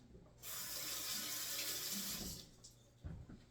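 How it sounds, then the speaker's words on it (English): Kitchen tap running while tomatoes are washed, a steady hissing stream of water that stops partway, followed by light handling clatter. "we're gonna wash our tomatoes and then cut them"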